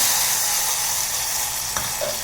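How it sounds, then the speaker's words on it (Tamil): Steady, loud sizzling hiss as a hot mustard-seed and chilli tempering meets cooked, mashed spinach, with a faint clink partway through. "இப்போது தாளிப்பை இந்த கீரையில் சேர்த்துக்கலாம்."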